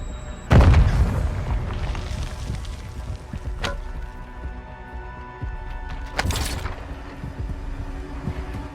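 A Semtex grenade in a video game explodes with a sudden loud boom that decays into rumbling debris, followed by a sharp crack and a second burst a few seconds later, with no talking.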